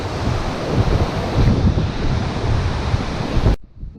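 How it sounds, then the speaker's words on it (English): Heavy wind buffeting a microphone on a bushwalk at Hanging Rock, a loud continuous low rumble and roar that cuts off abruptly near the end. "the wind is blowing like a son of a bitch, which is probably going to affect the sound quality"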